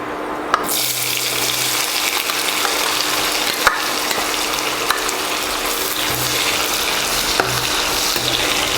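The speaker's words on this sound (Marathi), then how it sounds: "मी इथं पहिल्यांदा कांदा थोडासा भाजून घेते" Sliced onion fries in hot oil for a chicken dum biryani, giving a steady, close sizzling hiss that runs unbroken throughout, with a few faint low knocks underneath.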